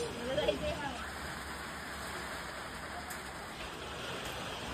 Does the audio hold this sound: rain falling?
yes